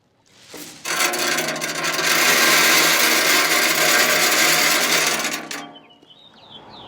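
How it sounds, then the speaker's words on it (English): Mesquite wood pellets pour in a steady, dense rattling stream into cherry pellets in a Pit Boss pellet grill hopper, running for about five seconds before stopping, followed by a faint rustle. "we're just going to mix a little bit in with our cherry pellets"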